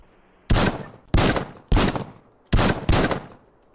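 Gunfire in the VR shooter game Crunch Element: five loud, sharp shots in an uneven rhythm, each with a short decaying tail, close and with no talking.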